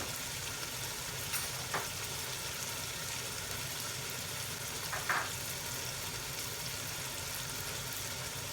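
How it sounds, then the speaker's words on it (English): Ground coriander, turmeric and chili fry in a pan for chicken korma with a steady, soft sizzle, broken by a couple of brief scraping stirs. "So we want to stir this all through so we can get those spices cooking."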